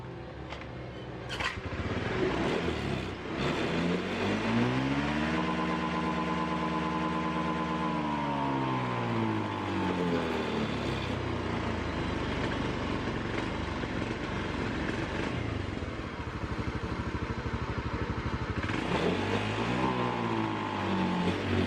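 A Honda Beat scooter with a sputtering fault starts and runs, the engine revving up into a rising and falling whine, then settling into a steady running drone at moderate distance with no voices.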